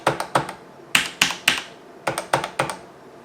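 Fingers type on a Topre keyboard up close, producing bursts of crisp, muffled keystrokes in quick irregular clusters with brief pauses between them.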